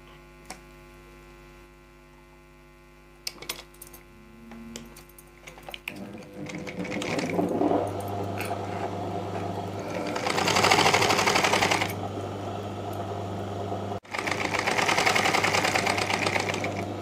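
Sewing machine stitching a puff-sleeve blouse: a quiet hum at first, then the motor runs loudly in long continuous stretches, stopping briefly once before starting up again.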